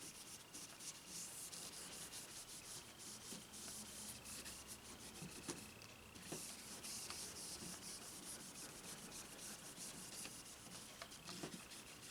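Steady fine scrubbing and rubbing as frets on a 1965 Gretsch 6117 guitar neck are polished with Ultra Cut 105 compound, continuous and faint at close range with a few light taps.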